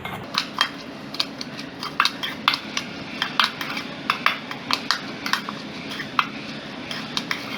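A spoon stirring chopped onion, chili, chaat masala and salt in a bowl, with frequent clinks and scrapes against the bowl in an uneven rhythm, close and moderately loud, no voices.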